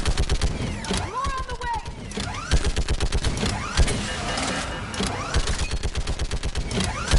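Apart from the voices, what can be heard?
gunfire in the video game Mass Effect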